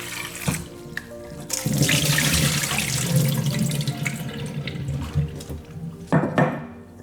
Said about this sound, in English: So I'm just going to give it a good rinse.